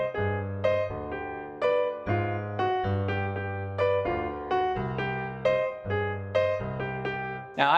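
Jazz piano montuno line played alone: a repeating syncopated chordal pattern with a steady low bass figure, crisp struck notes falling into a lively rhythmic cycle.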